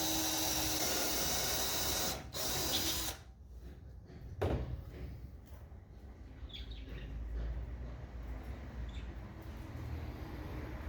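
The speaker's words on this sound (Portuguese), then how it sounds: "eu gosto de fazer um furo antes de colocar o parafuso" A drill boring a pilot hole into plywood before a screw goes in, a loud continuous whine for about three seconds that then cuts out, leaving quieter workshop clatter and a faint background hum.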